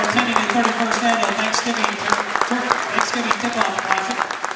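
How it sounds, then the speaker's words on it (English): Crowd applause for the all-tournament team at a high school Thanksgiving tip-off basketball tournament, loud sustained clapping from many people filling a gym, with voices underneath. "a round of applause for all tournament team"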